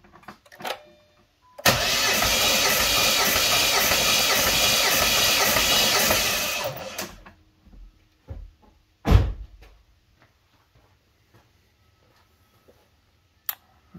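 A 2008 Jeep Liberty engine cranks steadily for about five seconds during a compression test, an even, loud starter churn that stops abruptly, followed by scattered clicks and a sharp clunk in an otherwise quiet garage.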